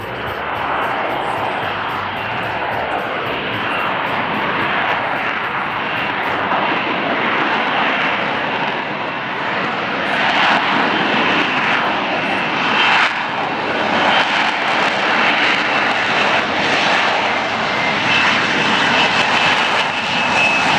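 An F-35B fighter jet's engine roars during a hovering demo flight at the Iwakuni air show, a loud, continuous broadband rumble and whine that holds steady for the full stretch with slight surges, far-reaching and outdoors.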